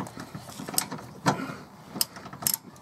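A ratchet fitted with an impact socket loosens bolts under a Fiat 500 during an oil change, producing a few sharp mechanical clicks and rattles spaced irregularly over a low background.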